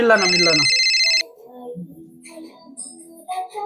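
A phone rings loudly with a bright electronic tone that cuts off abruptly, then people talk quietly afterward.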